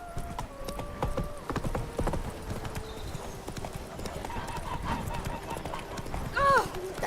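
Hooves of a horse in The Witcher Wild Hunt clop in a brisk, steady trotting rhythm, close and clear, with game speech and a brief whinny-like call near the end.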